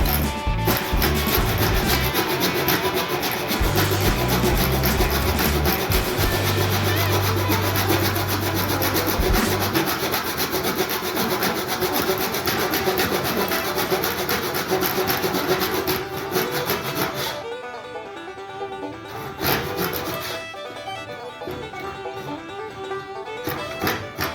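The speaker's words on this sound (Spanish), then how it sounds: "A terminar el corte. Entonces, con un serrucho," Hand saw cutting through a wooden rafter, a continuous rasping back-and-forth stroke that stays loud and close, then thins into a few slower, lighter strokes near the end.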